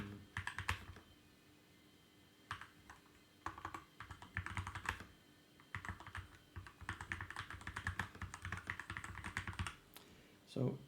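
Typing on a newly installed mechanical keyboard, rapid clicky keystrokes in irregular bursts with short pauses between, close and fairly quiet.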